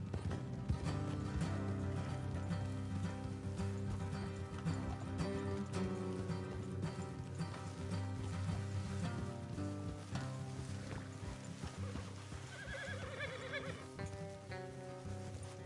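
Horses in Red Dead Redemption 2 neigh and whinny over clip-clopping hooves, set against a steady, dense bed of game music that stays loud throughout, with a brief brighter flourish near the end.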